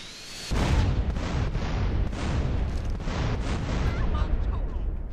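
An explosion in the video game GTA San Andreas erupts suddenly and rolls on as a loud, dense, sustained roar with faint crackling bursts for several seconds.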